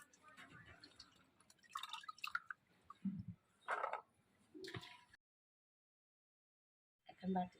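Vegetables for a fish-head and mixed-vegetable curry being rinsed by hand in water, giving splashy, dripping bursts at close range with pauses between, some faint talk under it and a brief silent gap.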